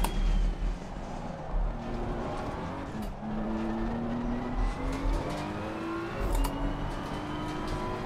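A Ferrari race car engine in Assetto Corsa Competizione drones loudly and steadily, its pitch climbing through gear changes with brief dips between, under a constant road and tyre roar.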